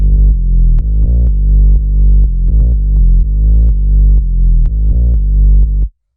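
A loud, deep electronic bass line in a track, heavy low tones pulsing in a syncopated pattern with sharp clicky note starts, playing alone before stopping abruptly.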